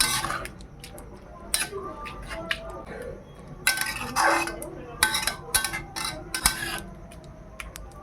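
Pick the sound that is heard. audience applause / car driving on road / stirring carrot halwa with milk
stirring carrot halwa with milk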